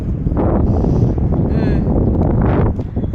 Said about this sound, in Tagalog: Kusog kay ang hangin diri ah.